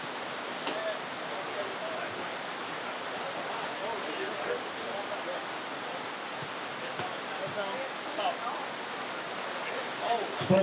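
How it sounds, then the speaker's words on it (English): Sideways, stinging rain beats against an outdoor microphone at a riverside bass fishing weigh-in on the Alabama River, making a loud, steady, close rushing hiss throughout with no clear voices. "We got a little bit of sideways rain, a little bit of stinging rain"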